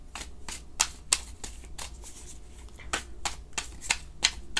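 A deck of tarot cards shuffled by hand during a reading, rapid repeated papery riffles and slaps close up, steady and fairly loud with no talking.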